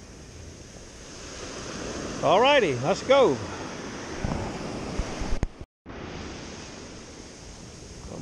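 Big surf crashing on a beach, a steady broad roar of waves with wind noise, while a voice speaks briefly over it partway through.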